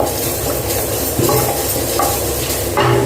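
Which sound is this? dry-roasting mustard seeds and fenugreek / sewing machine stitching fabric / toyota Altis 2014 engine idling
dry-roasting mustard seeds and fenugreek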